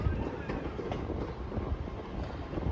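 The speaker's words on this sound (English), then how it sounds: "getting an IET down to Reading" An Intercity Express Train heads for Reading, heard as a steady, dense interior rumble and roar with a faint hiss that runs on without break, close and enveloping.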